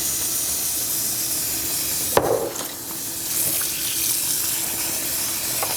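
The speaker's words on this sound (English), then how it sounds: "fill up the sink at least once with some apple cider vinegar and submerge them in there" Steady running water from a tap streams into a sink, a continuous hiss with a brief clunk and splash near the middle.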